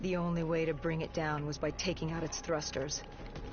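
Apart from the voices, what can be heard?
No distinct noise like a dog, phone or traffic.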